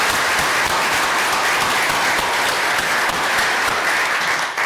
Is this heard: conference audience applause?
yes